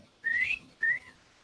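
Two short, thin whistles, rising then levelling, sound faint and close, as a person tries to whistle with little success.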